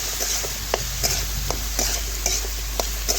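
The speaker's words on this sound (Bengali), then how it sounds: "এখন আমি খুরপি দিয়ে ভালোভাবে ঝিঙের সাথে মশলাটা মিশিয়ে নেব" A spatula stirs ridge gourd with ground spices, turmeric, chilli powder and salt in a frying pan, giving regular scraping strokes about every half second over a constant sizzle, close and alone.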